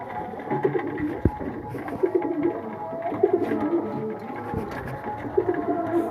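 Pigeons fed soaked chickpeas at night coo in soft, repeated, overlapping murmurs close by, with a couple of sharp clicks from pecking or feet.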